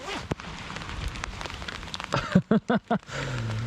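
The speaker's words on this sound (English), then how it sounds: "it's raining." Big raindrops patter and splash during a motorbike trip in the Picos and Pyrenees, with steady rain hiss under bursts of nearby vehicle or wind noise and a few brief rhythmic thumps near the end.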